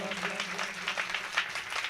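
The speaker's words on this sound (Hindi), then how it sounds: "एक बार ताली बजा के हिनका सब गोटे आशीर्वाद दियौन।" An audience at a Shrimad Bhagavat Katha religious gathering claps together in a short burst of applause. A low steady hum and faint voice sound beneath it.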